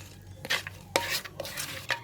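Corn papaya salad with roasted peanuts and crispy anchovy being stirred in a bowl, producing a few soft, close clinks and scrapes at an irregular pace, fairly faint.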